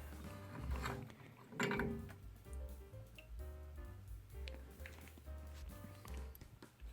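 A hand-turned faucet reseating tool grinds a corroded valve seat inside a dripping two-handle faucet, giving faint, irregular scraping and ratcheting over a low steady hum.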